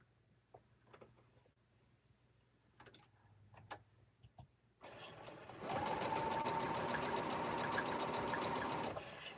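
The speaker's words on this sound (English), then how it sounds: "So let's sew these together." A sewing machine stitches scrappy quilt block pieces together for an arrowhead block. After a few quiet taps and rustles, a loud, steady, close-up motor whir runs for about four seconds, then stops.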